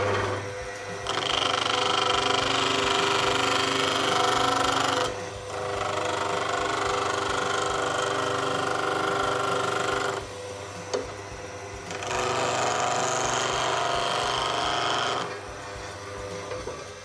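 A woodturning negative rake scraper is sharpened on a bench grinding stone, giving two long bursts of bright grinding noise over the steady hum of the grinder motor, with quiet gaps between passes.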